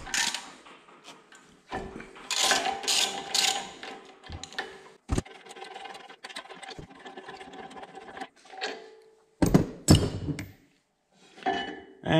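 A ratchet wrench works on a 17 mm brake disc bolt on a Toyota GR Yaris, giving close bursts of rapid metallic clicking and ratcheting separated by short pauses, with sharp clanks of tools toward the end, no talking.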